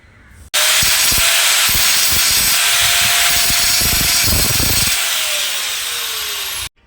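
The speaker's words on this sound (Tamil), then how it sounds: "கம்பியோட முன்பகுதியை நம்ம ஷார்ப் பண்ணிக்குவோம்." A power grinder sharpens the front tip of a welded steel rod for a homemade hand-drill soil digging tool, running loud and steady for about six seconds with grinding rasps before winding down.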